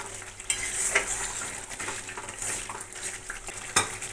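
Spice paste sizzles in oil in a pan while a metal spoon scrapes and stirs it, giving soft clinks and scrapes over a quiet steady fry, close and fairly faint, with no talking.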